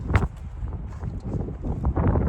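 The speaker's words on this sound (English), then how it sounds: "I hope that wind isn't too bad for you. It's blowing down here." Wind buffets a microphone outdoors on an allotment, a steady close rumble with gusty surges throughout the short stretch.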